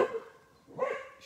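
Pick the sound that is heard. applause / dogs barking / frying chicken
dogs barking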